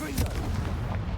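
The Confringo fire-blast spell in Hogwarts Legacy lets off a sharp explosive bang followed by a booming, crackling rumble that fills the short moment, loud and close.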